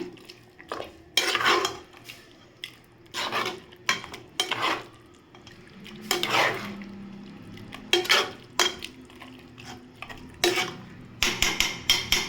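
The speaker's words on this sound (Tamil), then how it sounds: "அதையும் சேர்த்து நல்லா மிக்ஸ் பண்ணிக்கோங்க" Stirring a pan of beef pepper gravy with coconut paste, with repeated scraping and clinking strokes of a spoon against the pan in short bursts, fairly close and moderately loud, with no talking.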